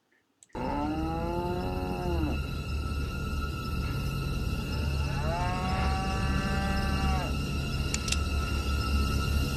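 Cows in a 1993 film moo in two long, drawn-out calls over a steady low background rumble.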